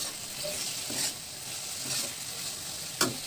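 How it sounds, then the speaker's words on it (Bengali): Coarsely ground spice paste hitting a hot pan, giving a steady close sizzle with stirring scrapes, a few soft thumps and one sharp clack near the end, no talking. "তো বন্ধুরা দিয়ে দিলাম আমি মশলাটা"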